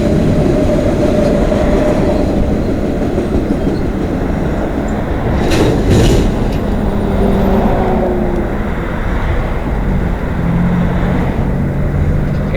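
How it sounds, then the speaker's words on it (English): A long CN freight train, M302 from Winnipeg to Toronto, rolls steadily through a rail yard at London East, its loud continuous rumble carrying rail clatter and a brief burst of hiss midway, with no talk. "This train originates from the Symington Yard in Winnipeg, Manitoba, and it's heading east to McMillan Yard in Toronto,"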